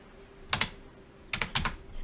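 Quiet bursts of computer keyboard typing, a few quick clicks in two short clusters separated by a pause, close and soft.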